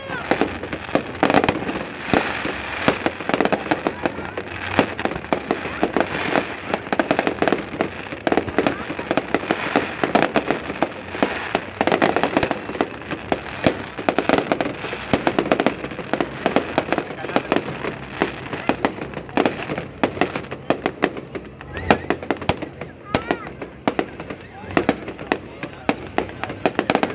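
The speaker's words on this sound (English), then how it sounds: "fireworks is fire" Fireworks bursting in Katara in 2019, a dense continuous barrage of crackling pops and booms, loud and close, with people's voices occasionally mixed in.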